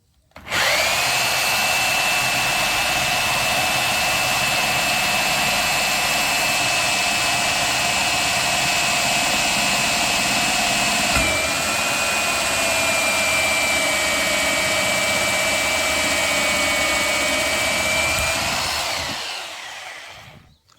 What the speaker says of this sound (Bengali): মেশিন দিয়ে যতটুকু সুন্দর হোল করা যায়।